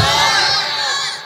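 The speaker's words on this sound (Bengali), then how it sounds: "আমি লিল্লাহি তাকবীর বলবো, আপনারা আল্লাহু আকবার বলবেন" A large crowd at an Islamic sermon gathering roars Allahu Akbar in unison after a takbir call. The shout is loud, close and sustained, and many voices blend into one surging wall of sound.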